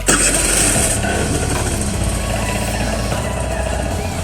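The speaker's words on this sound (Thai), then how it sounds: "เดี๋ยวเรามาฟังเสียงเครื่องกัน" A Suzuki Verde 50cc motorcycle engine runs close by, a loud, steady idling buzz that holds without a break from start to finish.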